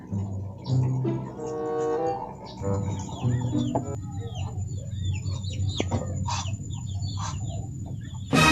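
Chickens cluck and squawk at close range in a rural Sundanese village setting, with repeated bursts of clucking over background bird chirps and ambient noise.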